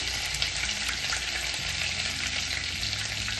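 Mustard seeds and finely chopped onion fry in hot oil for Nagpur-style Saoji egg curry, a steady dense sizzle with faint crackles and low stirring scrapes, loud and close, no talking.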